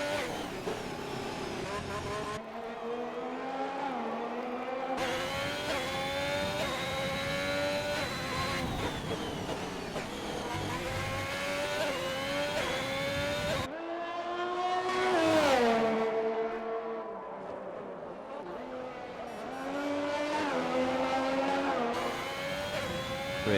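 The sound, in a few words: race car speeding down the back straight, racing video game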